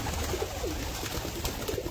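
Pigeons coo in short repeated phrases while feeding below others still perched up high, soft rounded calls recurring over a steady outdoor background with no talking.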